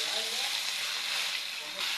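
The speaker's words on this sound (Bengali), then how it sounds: "বাকি মাছগুলো এইভাবে ভেজে নিচ্ছি।" Rohu fish fries in mustard oil with a continuous, even crackling hiss, close and fairly loud, holding steady without pause.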